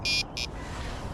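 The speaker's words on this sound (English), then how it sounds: "turn these bite alarms down as well" A fishing bite alarm on a bankside feeder-fishing setup sounds two short, sharp electronic beeps in quick succession, then falls silent over a low outdoor background.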